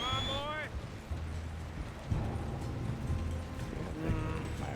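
Horse hooves clip-clop at a steady walking pace through a Red Dead Redemption 2 pastoral scene, layered under game music and ambient sounds with a voice talking briefly.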